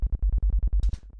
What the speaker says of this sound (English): So basically from a blank sine wave that sounds like this